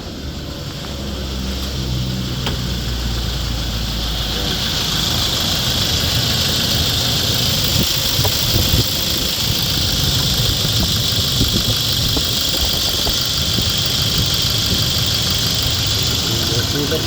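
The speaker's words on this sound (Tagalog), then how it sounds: "Bali tinetest drive na natin, tapos tinitingnan natin yung takbo ng makina." Toyota Innova 2.8 diesel engine running steadily during a test drive after intake manifold and EGR valve cleaning, a continuous near drone with road rumble and a constant high hiss throughout.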